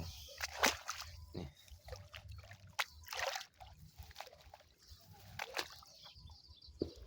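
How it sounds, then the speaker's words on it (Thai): Water flows into a fish pond where nets are set, giving a sloshing trickle broken by several sharp splashes, with a faint bird call in the background. "น้ำไหลเข้าบ่อ"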